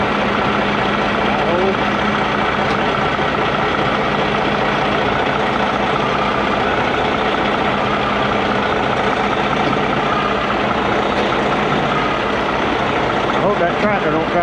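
A tractor engine idles steadily and loudly close by with a constant low rumble during a vehicle recovery. People talk over the engine noise.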